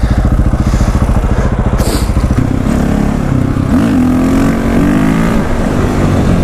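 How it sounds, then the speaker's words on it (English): Motorcycle engine loud and close during wheelie practice, a steady pulsing idle giving way to revving and rising pitch as the bike is pushed up, with no talk over it. "This is my wheelie practice. This is my episode of wheelie practicing."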